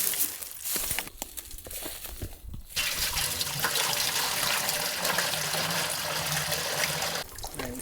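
Birch sap sloshing and splashing in a full bucket with a hole, carried outdoors; a few knocks and splashes give way to a loud, continuous rushing slosh, close by, with no speech.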